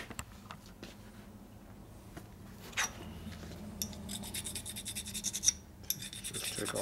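A hand file rasps across the sharp edge of a Harley-Davidson shovelhead 4-speed transmission part, with a few scattered scrapes at first, then a quick run of close, rhythmic strokes in the second half.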